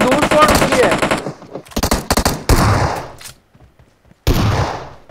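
An M4 rifle in PUBG Mobile fires in loud, rapid bursts separated by brief pauses, close and prominent, with little talk around it.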